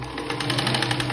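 A sewing machine stitches a blouse with steady, rapid mechanical whirring and rhythmic needle pulses, moderately loud and close, with no talk.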